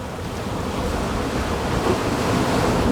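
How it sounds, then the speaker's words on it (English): Ocean waves wash onto a shore in a steady, broad rushing swell that holds at moderate loudness throughout, with no voices. "Imagine those waves just washing away your stress"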